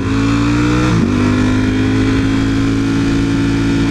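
A Porsche's engine roars close and loud, revving hard as it accelerates past with a brief pitch drop partway through, then holds a steady high drone.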